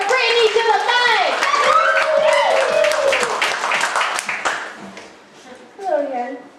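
An open mic poetry slam audience claps and cheers for a poet, with loud, dense applause and whooping voices that fade, then swell briefly again.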